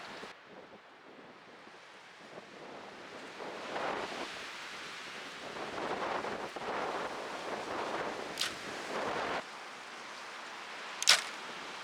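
An arrow is shot from a Stratos bow outdoors on a very windy day, a sharp brief snap late in the clip after long rushing wind gusts, with no talk.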